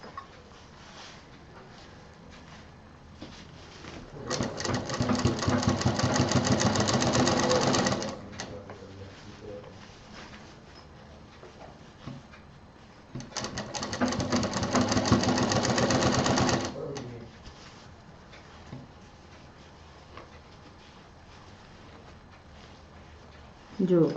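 Sewing machine stitching a seam on a fabric handbag in two long, steady whirring runs of several seconds each, with a quiet pause between them, close and loud, and someone speaking softly in the gaps.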